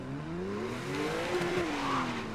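A car drifting in Need for Speed Most Wanted (2012), its engine note rising and falling while tires squeal in a long sliding whine, loud and close with no talk.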